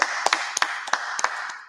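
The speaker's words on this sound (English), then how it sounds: "Everybody, give yourself a big round of applause." Scattered hand claps at a sports day awards gathering, a handful of sharp individual claps spaced irregularly rather than a full crowd ovation, fairly close and without talk.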